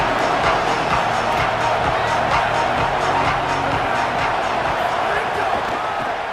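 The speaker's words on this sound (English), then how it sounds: "This crowd ready to make its presence known." Stadium crowd at a football game keeps up a loud, steady roar throughout, with scattered thumps and rising swells of cheering, and a faint voice carrying over the din.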